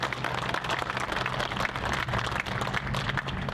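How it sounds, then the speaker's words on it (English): Outdoors at a Memorial Day ceremony in a veterans memorial park in DeKalb, Illinois, an audience claps for an American Legion Ladies Auxiliary leader. The applause is steady and close, with a low hum running underneath. "Let's give her a nice round of applause."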